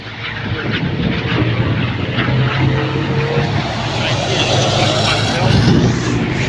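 NZ Super race trucks roar past on a circuit's front straight during a race, a loud, sustained engine drone that swells slightly as they pass, with a commentator talking throughout.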